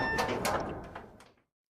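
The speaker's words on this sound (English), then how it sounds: "He gets comfy and then pushes the door open and steps inside." A door is pushed open, giving a short scraping slide with a couple of knocks and rattles before it cuts off into silence.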